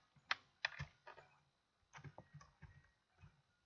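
Quiet, close clicks and taps on a computer keyboard and mouse during a game of Animal Jam, an irregular run of sharp presses in two clusters with a short pause between them.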